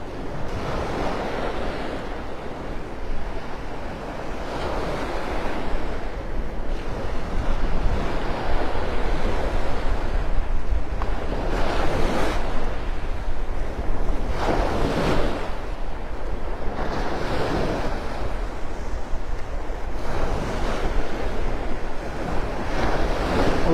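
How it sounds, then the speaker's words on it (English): Ocean waves roll onto the beach at Delnor-Wiggins in North Naples, Florida, a steady, loud surf roar with repeated swells breaking and washing in, mixed with wind noise on the microphone and no talking. "The lullaby of her waves."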